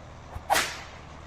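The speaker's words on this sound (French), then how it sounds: "Tiens, petit coup de fouet pour la peine." A single sharp whip crack from Farming Simulator 22 snaps out loud and close, with a brief airy tail and no speech around it.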